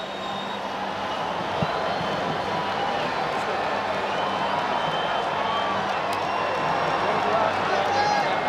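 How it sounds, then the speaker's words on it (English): An arena crowd at a fight event roars and applauds in a sustained, dense wash of cheering that swells slightly toward the end, with a voice talking over it. "to hear this crowd erupt like that, absolutely sensational"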